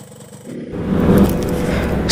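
A two-stroke motorcycle engine idles warm on GGi Top Speed oil, a steady, fairly smooth running drone close to the microphone that swells after a quiet start and then holds even.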